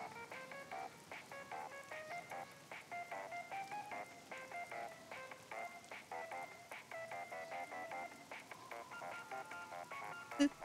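Ringtone in the video game Luigi's Mansion 2 HD, a busy repeating electronic melody of rapid chiming notes playing continuously at a steady moderate level throughout, with no talking over it.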